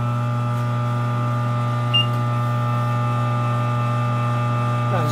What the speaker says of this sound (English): Sorry for the noise, because I have a phase converter